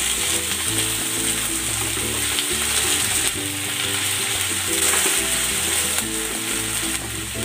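Pieces of pork hit a hot pan and fry with a steady, loud sizzle, with clinks and scrapes of stirring running through it.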